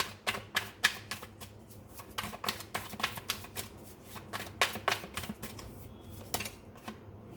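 Tarot cards shuffled and drawn by hand in a rapid, uneven run of crisp riffling snaps and flicks, close and fairly loud, with no talking.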